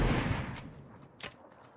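Gunfire from a firefight in the video game PUBG: several sharp, fairly distant shots cracking out at irregular intervals over a low, rumbling background.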